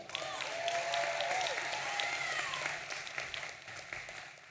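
Steady applause from a University of Maryland commencement crowd greets a graduate, sustained and fairly dense, with a few whoops or whistles rising over the clapping before it tapers slightly near the end.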